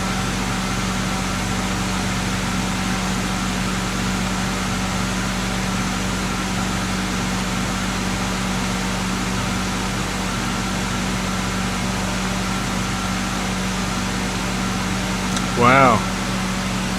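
A BMW E90 engine idles in a steady, low, unchanging drone, with a short high chirp breaking in near the end.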